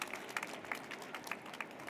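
Faint, scattered clapping from an audience at a departmental children's reading competition final, a few distinct hand claps over a quiet room.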